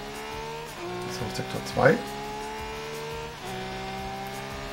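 Race car in Project Cars 3 on a coastal route, engine droning with steady harmonic whine, shifting up and revving while someone talks over it.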